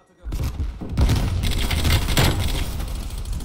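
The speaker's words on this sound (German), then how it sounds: "Granate geht raus." A grenade going off during a Call of Duty Black Ops Cold War multiplayer match: a heavy thump and boom with dense crackling gunfire continuing all around, loud and close.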